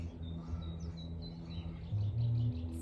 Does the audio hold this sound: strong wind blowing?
no